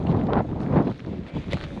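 Gusty wind at Big Bend National Park buffets the microphone in uneven rumbling bursts, rising and falling over a couple of seconds.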